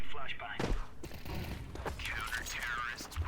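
Gunfire in an online video game shooter, with a burst of shots amid game sounds and movement effects, while a player talks over the action.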